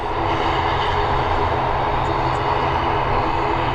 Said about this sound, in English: We've got two Aer Lingus on the runway here. I don't know which one is going.